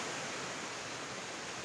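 Benki Falls in Kanakapura, Karnataka pours in the background as a continuous, uniform rushing roar, with no voices over it.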